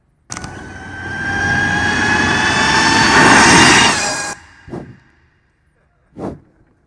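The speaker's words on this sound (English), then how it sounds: "Let's look at a flyby of the bike." An Ultraviolette F77 electric motorcycle passes close by in a single loud flyby. It gives a rising, whining electric hum and rushing sweep that swells, peaks and cuts off, followed by two brief faint thumps.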